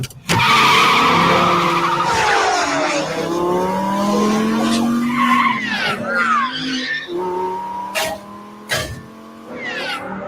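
A car racing in a movie scene, tires skidding and squealing loudly through long sliding turns while the engine revs, with sharp bursts and screeches near the end.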